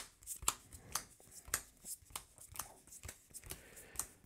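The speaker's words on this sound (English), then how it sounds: "let me shuffle these up real quick" A deck of Marvel Champions game cards is shuffled by hand in close, crisp bursts of riffling and snapping, repeating at a quick, uneven rhythm with soft rustles between.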